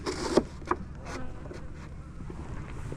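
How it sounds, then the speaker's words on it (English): Honeybees buzz around hives at a spring apiary where colonies are kept to raise drones for queen mating; a steady, close insect hum with a few brief louder passes. "Got bee wants to be on camera."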